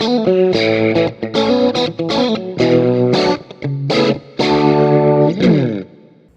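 An electric guitar played through an Axe-Fx II with an added reverb block, a distorted tone sounding a run of sustained notes and short chords with a light reverb tail, loud and alone.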